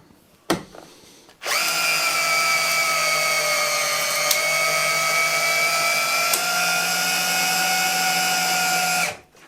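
Cordless drill from a group of Bosch Flexi Click, Festool and Milwaukee drills, driving a screw with a steady high-pitched motor whine held for about eight seconds after a brief click, then cutting off.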